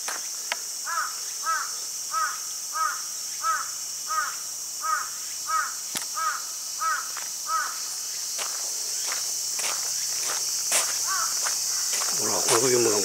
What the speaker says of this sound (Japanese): ねえ、カラスうるさいわ。